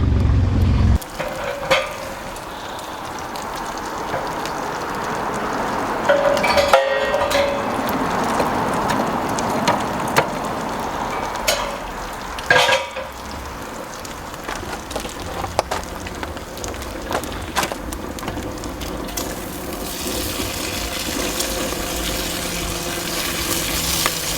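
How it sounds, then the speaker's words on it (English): Steady, crackling sizzle of bacon frying on a Summit camp stove outdoors, loud and close, with occasional clinks and scrapes, no talking. "the bacon's already getting a good sizzle going to it"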